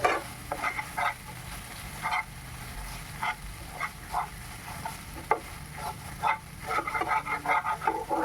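Spice paste for rui posto frying in oil after a splash of water, a soft continuous sizzle under short bursts of spatula stirring and scraping against the pan, close and with no talk.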